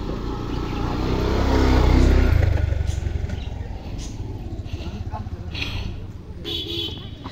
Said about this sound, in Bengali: একটা বাইক আসতেছে